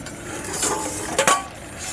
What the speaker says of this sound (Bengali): আমি এখন ঢাকনাটা তুলে দেখবো কেমন হয়েছে।